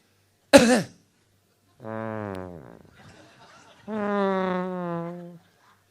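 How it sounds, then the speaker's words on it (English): A single sharp cough from a comedian performing live, followed by laughing or drawn-out vocal sounds, with quiet gaps between. "You know, the cough."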